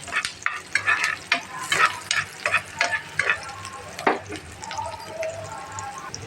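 Whole cumin and spices frying in a pan, crackling sizzle with bursts of spatula stirring and scraping, close and fairly loud, no voice.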